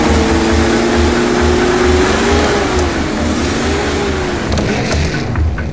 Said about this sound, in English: Oh, I was over revving like a pro.